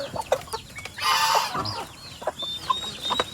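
Turkeys and chickens on a farm cluck and squawk in short, close bursts, with one louder raspy call rising in the middle among scattered clucks.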